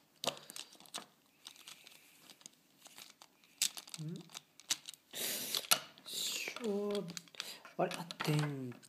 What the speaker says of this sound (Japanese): 電池を入れてみましょう。